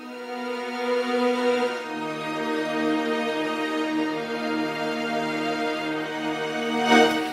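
Orchestral string section in a solo mix built in FL Studio, with violas, cellos and violins sustaining layered harmonic tones alone at a steady moderate level, swelling slightly near the end.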